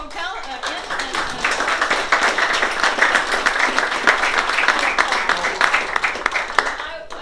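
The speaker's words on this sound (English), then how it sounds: "can we have a round of applause for Michelle?" An audience at a state senate campaign event gives Michelle a round of applause, with a dense, steady patter of many hands clapping for several seconds before tapering off at the end.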